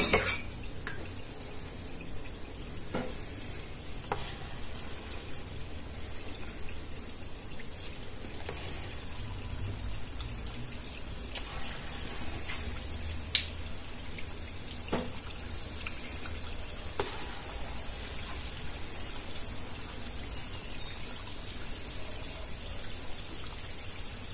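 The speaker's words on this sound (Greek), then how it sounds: "και τηγανίζουμε μέχρι να ροδίσουν." Loukoumades dough balls frying in a pot of hot oil: a soft, steady crackling sizzle throughout with occasional small pops, faint and unbroken with no talking.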